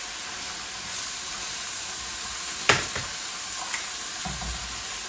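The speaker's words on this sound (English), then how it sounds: "on the other side we're going to put our 3 eggs, crack the eggs in there" Eggs frying in a pan beside beef patties, a steady close sizzle and hiss with a sharp crack and a few soft clinks of utensils.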